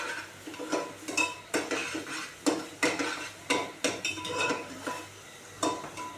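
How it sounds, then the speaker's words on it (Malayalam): A ginger, garlic and green chilli paste is stirred in a pan for pav bhaji, with a utensil scraping and tapping in quick irregular strokes, close and moderately loud, with faint sizzling beneath. "അതിനുവേണ്ടി നമുക്ക് ഒന്ന് ഇളക്കി കൊടുക്കാം"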